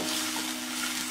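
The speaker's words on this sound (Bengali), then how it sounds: "পেঁয়াজটা ব্রাউন করে ভাজার প্রয়োজন নেই, জাস্ট হালকা একটু ভাজবো।" Chopped onion fries lightly in a pan for a singara filling, giving a brief, steady hiss of oil with a soft sizzling texture and no other sounds.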